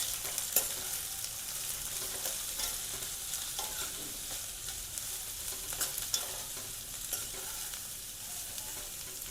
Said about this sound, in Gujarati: કેપ્સિકમ અને કોબીજ ને આપણે થોડું ચડવી લઈશું